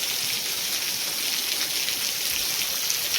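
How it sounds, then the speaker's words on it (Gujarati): Heavy rain pours steadily onto a flooded farm field, a dense, continuous hiss of drops that stays loud and even throughout with no voices. "દોઢ કલાક છે વરસાદ ધારો એવો ને એવો ચાલુ હે"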